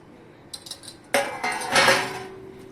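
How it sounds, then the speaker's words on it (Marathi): Rice and lentils (urad, chana, moong and tur dal) poured into a bowl to soak for appe batter, a few light clinks followed by a louder grainy rush and rattle of dry grains settling against the bowl, close and with no talk. "सगळ्या डाळी आणि तांदूळ मी आता एकत्र करून भिजायला टाकते."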